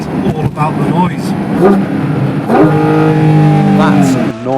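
A Porsche GT4 RS engine roars loudly through its intake, revving up and down in rising, sweeping tones that swamp the recording from start to finish.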